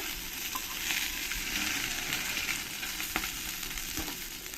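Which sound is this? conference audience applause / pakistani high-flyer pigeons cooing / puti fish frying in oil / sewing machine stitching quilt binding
puti fish frying in oil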